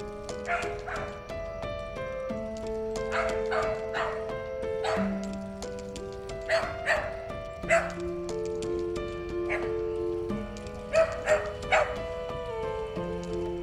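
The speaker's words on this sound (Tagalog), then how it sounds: "Oh, galit yung aso." An angry dog barks repeatedly at a distance outdoors, short sharp bursts spread across a steady background of music or drone, with people talking nearby.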